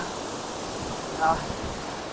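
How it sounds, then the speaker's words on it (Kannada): Seven Sisters Waterfall in Cherrapunji, Meghalaya, heard as a constant broad roar of falling water from a distance, with no breaks. "ನೋಡ್ಬೋದು ವಾಟರ್ ಫಾಲ್ಸ್ ಯಾವ ರೀತಿ ಇದೆ ಅಂತ"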